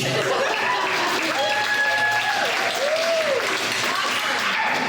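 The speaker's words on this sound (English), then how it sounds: "Clap if you want to hear the movie." A Comic-Con audience at a San Diego live podcast panel applauds in a steady wash while a voice talks over it and a few chuckles rise.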